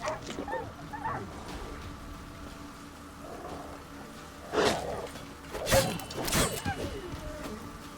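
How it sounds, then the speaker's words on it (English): A hostile dog barks and growls during a fight in The Witcher 3 video game, a few sharp barks rising over a steady background of rain-like ambient noise and combat sounds. "I can't let a dog kill me."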